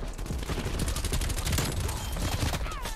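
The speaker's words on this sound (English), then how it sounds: "Oh, that's a teammate shooting at me" Rapid gunfire from a teammate in Call of Duty Cold War multiplayer, a dense, continuous burst of automatic shots filling the whole moment at close range, loud and steady with no talking.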